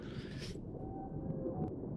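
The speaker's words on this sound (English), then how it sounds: "Oh, now it's a whale." A whale call comes through submarine sonar in a naval video game, a faint, thin drawn-out tone under a constant low rumble of underwater noise, after a short burst of hiss.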